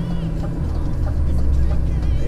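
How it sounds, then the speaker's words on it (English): A truck's exhaust brake holding it back on hilly roads gives a loud, steady, low engine rumble that drones on without a break. "The exhaust brake working overtime on these hills."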